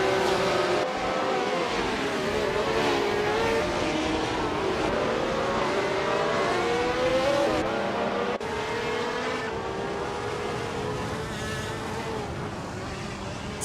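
Racing video game with 1967 Formula One cars at Deep Forest Raceway Reverse: several high-revving engines whine and buzz continuously, pitch rising and falling as the cars pass, loud and steady with no talk.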